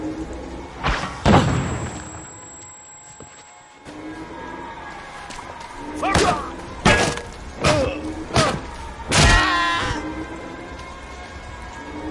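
Grenade blasts and heavy thuds in the game We Happy Few, several loud booming hits spread across the stretch with a quiet gap between the first ones, along with scattered crowd cries.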